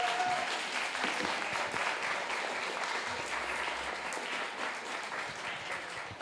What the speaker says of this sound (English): How about one more round of applause for those awesome competitors?